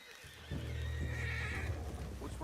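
A horse in Red Dead Redemption 2 whinnies loudly and at length, a shrill, wavering neigh over a low rumble, with faint hoof clops at the start.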